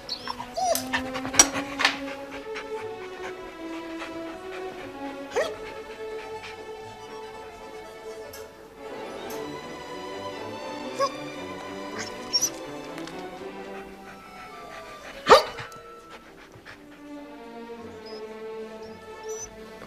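A dog whimpers and pants in a crowded café setting, with thin high whines and soft breathy bursts recurring irregularly, close by and fairly quiet, one sharper yelp near the end.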